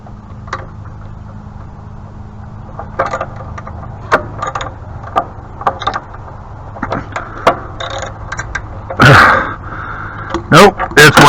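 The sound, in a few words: ratchet working on a pressure washer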